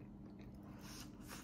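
Someone bites and chews mushrooms close to the mic, a short burst of soft crunching and wet mastication, quiet and without talk.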